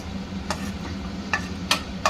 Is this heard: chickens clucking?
no